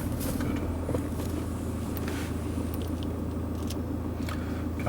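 Steady low rumble of a car driving on a road, heard from inside the cabin as continuous engine and tyre noise with faint higher clicks and rattles, and no talking.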